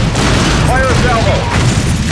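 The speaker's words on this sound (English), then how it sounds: "Fire salvo." A loud salvo of weapons fire in The Incredible Hulk: Ultimate Destruction, a dense continuous roar of blasts and booms close up, with game voices shouting over it.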